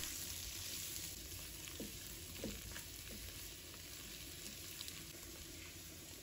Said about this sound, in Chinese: 接着我们再下入杏鲍菇，开大火给它翻炒均匀。